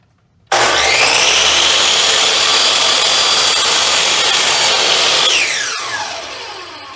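Power saw cutting wooden boards for the top and bottom of a turkey fan frame: the motor starts abruptly and whines loudly and steadily through the cut, then winds down, close up with no talk.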